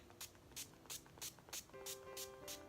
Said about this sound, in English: I'm gonna shake up my Urban Decay All-Nighter setting spray and just spritz away.